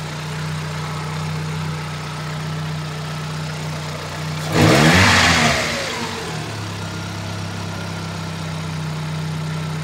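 A 1998 Daewoo Lanos 1.4 engine with a blown head gasket idles with a steady low hum, then revs sharply once and settles back to idle, close and clear with no talking.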